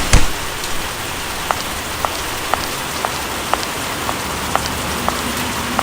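Steady rain pours down in a dense, even hiss, with occasional sharper drops ticking on a surface close by, unbroken throughout.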